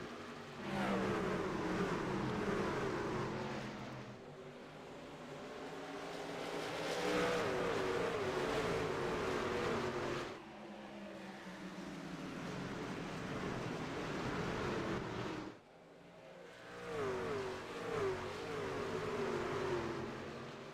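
Race trucks in a Truck Series race at Richmond accelerate on a restart, engines roaring loud and sustained in waves as the field passes, with brief dips between surges and no voices audible.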